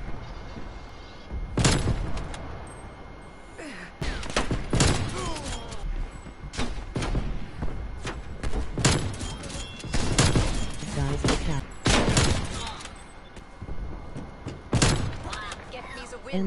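Call of Duty sniper-mode gunfire: sharp, loud shots and heavy impacts repeat at uneven gaps throughout, with thuds and slams between them.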